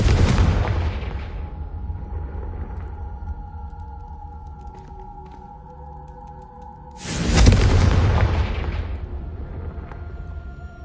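Two heavy booming blasts of the Confringo explosion spell in Hogwarts Legacy, each with a loud burst that rolls off into a long rumbling tail. A faint tonal hum sits in the quiet gap between them.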